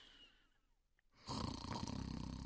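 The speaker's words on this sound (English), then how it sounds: "He is snoring in his bedroom." A man snores in a bedroom as a story sound effect, starting after a near-silent opening with a loud, steady snore that continues to the end.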